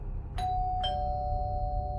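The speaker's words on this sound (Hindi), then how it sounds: "दरवाजे की घंटी बजी।" A doorbell chimes twice, two clear ding tones about half a second apart, the second note ringing on steadily over a low room hum.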